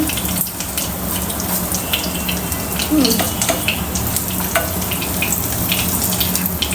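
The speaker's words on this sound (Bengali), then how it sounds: "এই যে মাছ ভাজি করতেছি আমি এখন" Fish frying in a pan, a continuous loud crackling sizzle with scattered pops and a few utensil clinks, no voices.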